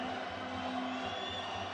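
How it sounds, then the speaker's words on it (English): Crowd at a Muay Thai title fight arena cheering, a steady wash of distant voices and whoops under a continuous hum. "You can hear the crowd here. Absolutely uproarious in their support."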